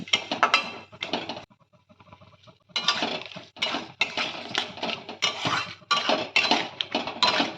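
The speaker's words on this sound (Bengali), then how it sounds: "এবার দিয়ে দেবো পেঁয়াজ কুচি। সব কিছু ভালোভাবে মিক্স করব।" Chopped onion stirred with tomato in a pan while making moong dal egg tadka: steady scraping and metallic clinks of a spatula against cookware in repeated bursts, close and fairly loud, with one brief pause.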